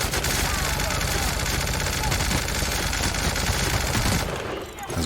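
Automatic gunfire from a shooter in The Outer Worlds rattles loud and unbroken for about four seconds as a dense, crackling stream of shots, then cuts off abruptly into quieter background.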